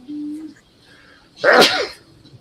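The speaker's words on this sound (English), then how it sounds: "it's a sneeze attack" A man lets out a single loud, close sneeze during a seasonal allergy attack, a sharp explosive burst after a brief voiced intake, with quiet room tone around it.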